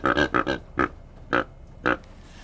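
A hand-blown deer call imitating a whitetail deer grunt, used while hunting: several short, low, throaty bursts, three rapid ones then three spaced single grunts, close and fairly loud with no talking.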